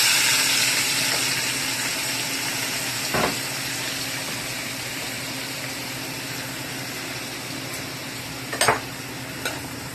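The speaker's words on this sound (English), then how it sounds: "the seasonings that I have cut up, that I put a picture up of, I'm going to go ahead and toss into the pot with a little bit of the olive oil" Chopped seasonings sizzle in a pot in olive oil left from frying fish, a steady loud hiss up close with a couple of brief utensil knocks, no voices.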